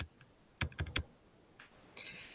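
Keys clatter on a computer keyboard as a formula is typed: a short burst of several quick clicks, then a couple of softer isolated taps, close and fairly quiet in a hushed room.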